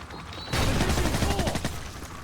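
Shotgun fire in the Call of Duty 4 training course bursts out loudly after a brief quiet moment, followed by a dense, crackling sequence of shots and rattling clatter.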